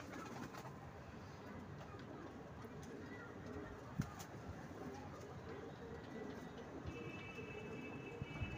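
Domestic pigeons coo softly in a loft amid steady background noise, their low murmuring calls faint and continuous, with a brief click or two.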